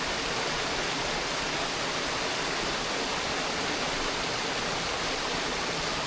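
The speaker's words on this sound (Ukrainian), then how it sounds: "Вода стікає." A mountain stream in the Carpathians near Vorokhta flows steadily, its water rushing in a dense, even hiss with no pauses and no voices.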